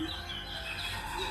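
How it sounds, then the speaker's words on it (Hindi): Many small birds chirp and tweet outdoors in the morning as a continuous faint chorus of overlapping calls, with no talking. "पीछे से आवाज़ आ रही होगी आपको बहुत सारी चिड़ियों की"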